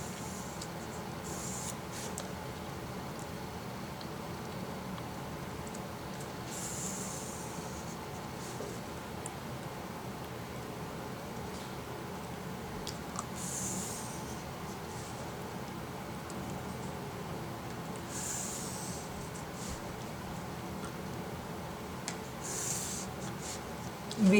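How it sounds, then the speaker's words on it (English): A pencil draws very light straight lines along a ruler, spaced a centimetre apart, on a craft sheet for festival home decoration. It makes a soft, continuous scratchy rubbing that runs steadily throughout, fairly quiet and without speech. "with the help of scale mark straight lines. The pencil, just very light lines of 1 centimeter gap each."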